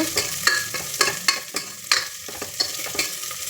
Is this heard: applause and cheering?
no